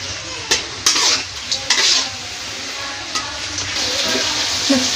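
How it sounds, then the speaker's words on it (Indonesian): Clams being stirred through a boiling spice sauce, with a steady bubbling sizzle and intermittent scraping clinks of a utensil against the pan. "kita masukkan kerangnya, kita aduk hingga rata dan bumbunya meresap ke kerangnya itu sendiri"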